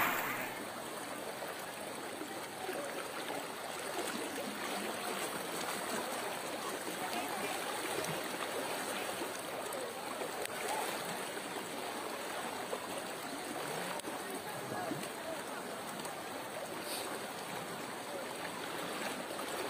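The Cilamuka River in Boalemo Regency rushes in flood after an afternoon of heavy rain. Its turbulent water makes a steady, dense roar with no break, heard alone with no voices.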